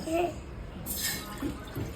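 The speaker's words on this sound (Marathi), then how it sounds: "पहिले पाणी टाकूयात" Water pours briefly into a pot for making tea, a short, splashy rush about midway, set against a low background murmur.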